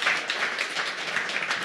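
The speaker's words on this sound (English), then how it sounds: "how about a round of applause for Justin and Michael?" Audience applause at a Central Oregon Pubtalk evening on building AI-powered organizations: a steady, dense wash of clapping from a crowd, sustained evenly through the moment with no talking over it.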